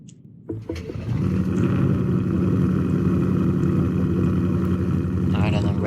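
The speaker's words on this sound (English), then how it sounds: "So we're gonna get in the car here real quick, and let's start her up." A car engine starts in the Roblox game Greenville: a quiet moment, a brief cranking burst, then the engine catches and settles into a loud, steady idling drone that holds to the end.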